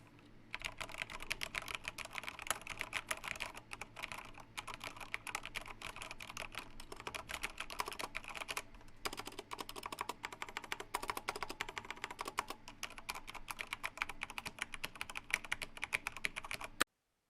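Fast continuous typing on a Ducky One 2 TKL mechanical keyboard, a dense, clacky patter of keystrokes heard up close with brief pauses, then stopping abruptly.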